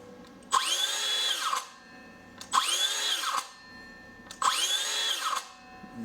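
A Makita DHS680 18V brushless cordless circular saw spinning up three times in short bursts, each run whining for about a second before braking to a stop, close and clear with no voices.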